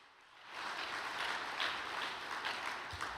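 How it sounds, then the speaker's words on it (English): Audience applause at a religious gathering, a steady wash of many hands clapping that swells after a quiet start and holds fairly loud throughout. "Let us offer another big round of applause to President Gi-sung"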